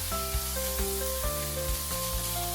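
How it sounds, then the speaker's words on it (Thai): Minced pork stir-frying with garlic in a hot pan, a steady close sizzle with occasional scraping stirs, running beneath soft background music. "นำหมูสับลงไปผัดต่อให้สุกให้หมดเลยครับ"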